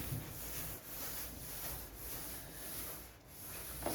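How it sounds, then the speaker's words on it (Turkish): A wet cloth wiped repeatedly over a wardrobe, giving faint, steady rubbing strokes in a quiet room, with no voices. "Birkaç sefer siliyorum."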